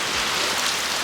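Heavy downpour on a rainy day, a dense, steady broadband hiss of rain pounding surfaces, loud and continuous with no gaps and no voices.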